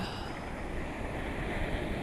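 Ocean surf washes in a faint, steady hiss with no distinct breaking crests, blended with soft wind noise.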